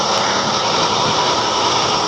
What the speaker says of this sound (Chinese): 发动机有异响，就是这种哗啦哗啦的声音